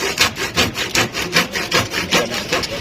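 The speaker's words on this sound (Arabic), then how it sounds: "دلوقتي انا بنشر اهو." A hand saw cuts through a piece of wood in a carpentry workshop, with steady rhythmic back-and-forth strokes, about eight pulses, close and fairly loud with no talking.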